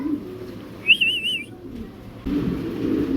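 A female pigeon, a Spangle Shallow, gives a short warbling coo close by, followed by a rougher burst of low fluttering or rustling noise, with no speech.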